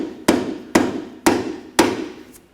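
A rubber mallet taps a ball joint into place on the front lower control arm of a 2013-2019 Ford Escape, giving four evenly spaced, solid knocks, close and clear with no talk.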